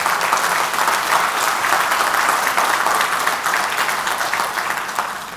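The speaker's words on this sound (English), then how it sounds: "Let's give a big round of applause." Sustained applause from a large audience at a nasscom innovation showcase, loud and continuous clapping that tapers only slightly toward the end, with no talking.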